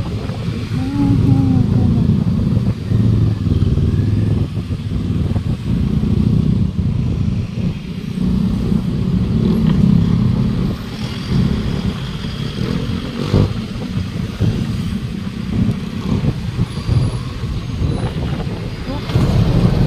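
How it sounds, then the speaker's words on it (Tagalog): Steady roadside traffic on Quirino Highway, with cars and motorcycles rumbling past continuously at close range, loud engine drone and occasional revving throughout. "Ayan, tumatraffic na. Quirino Highway sa kabila, Bernardino Road naman yung side na yan."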